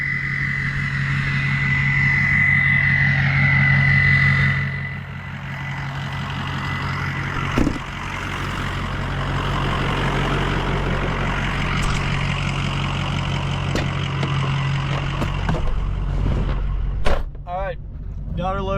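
A running excavator engine drones steadily and loudly while the machine is loaded onto a trailer, with a continuous low rumble, a brief clank near the middle and some sharper mechanical sounds toward the end.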